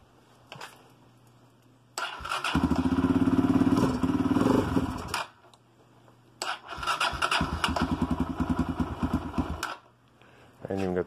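A cold engine on a homemade trailer build is cranked with no choke, in two separate bursts of rapid chugging cranking with a clattering, sputtering catch, quiet gaps between, and a voice talking in the gaps.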